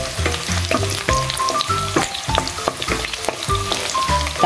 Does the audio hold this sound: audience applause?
no